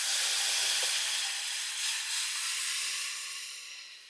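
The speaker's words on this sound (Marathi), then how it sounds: "भाजी ओतून चरचरीत फोडणी द्यायची" Fenugreek leaves (methi) poured into a hot tempering in a pan, giving a loud, steady, steam-like sizzle from the start that slowly fades toward the end.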